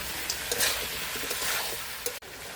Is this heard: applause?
no